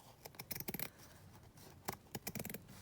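Scissors trimming the edge of a paper pocket on a junk journal cover, quiet close snips in two quick bursts of several cuts each, separated by a short pause, with no talking.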